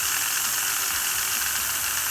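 A model OO gauge locomotive sits on a wheel cleaner that spins its wheels against wire brushes, producing a steady, loud, bright hissing whir that continues without a break and has no talking.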